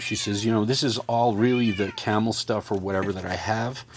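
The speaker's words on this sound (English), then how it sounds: "Yeah, you can probably hear my cat in the background." A house cat meows repeatedly in drawn-out, wavering cries over a few seconds, close and fairly loud, mixed with a person talking.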